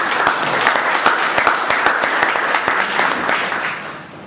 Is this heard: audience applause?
yes